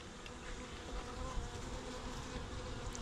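A dense, steady buzz of many bees swarming close by around a beehive, constant and humming without pause.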